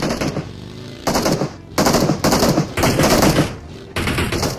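Bursts of automatic gunfire from the PUBG Mobile video game come in rapid rattling volleys, several separate loud strings of shots with short gaps between them.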